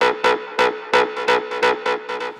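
A Splice acid bass stab sample suited to melodic techno repeats in loud, bright, buzzy hits with a clipped rhythmic pattern and no other sounds around it.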